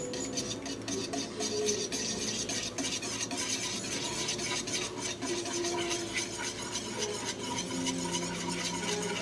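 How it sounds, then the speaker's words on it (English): A whisk stirs flour into a stick of melted butter in a pan for a blonde roux, with a steady scraping and clinking rhythm over a soft sizzle. The sound is continuous and close, with no talking. "Whisk works out pretty good for this."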